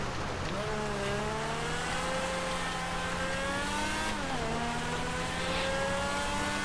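Engine of a Progen Tyrus supercar in GTA Online, droning steadily at high revs with a loud, continuous tone that climbs slowly, dips briefly as gears shift, then holds on, with no talking.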